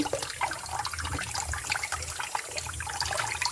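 Running tap water splashes steadily over a slab of pork belly being rinsed in a sink, a continuous close hiss and patter with no talking.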